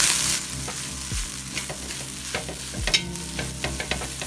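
Egg fried rice with scrambled egg sizzling in a pan as the rice is broken up and mixed, steady frying hiss punctuated by sharp spatula knocks and scrapes at an irregular pace, close up.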